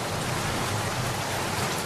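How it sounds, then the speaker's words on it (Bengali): Heavy rain pouring down in a downpour, a dense, steady roar of falling water with no gaps, loud and close throughout. "বৃষ্টি মুষলধারে নামল।"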